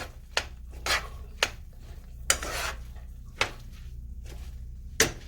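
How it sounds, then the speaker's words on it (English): Spoon stirring stuffed pepper filling with beans in a pot, several separate metallic scrapes and clinks spaced about a second apart, close and fairly quiet over a low steady background hum. "Let's give this a stir."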